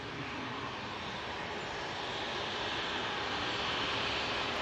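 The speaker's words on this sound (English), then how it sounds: "we do have that Ryanair I just spoke about before, about touchdown." Ryanair airliner touching down on landing at Manchester Airport, a steady broad engine roar heard from a distance that swells slightly toward the end, with no voices.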